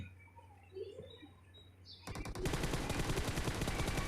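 Rapid automatic fire from an Mk14 rifle in the PUBG video game: a dense, loud stream of close shots bursting in after two seconds of quiet background and continuing to the end.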